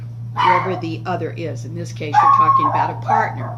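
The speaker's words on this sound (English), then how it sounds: "I'm sorry about the dog barking." A dog barks and yips intermittently in the background while a person talks steadily in the foreground.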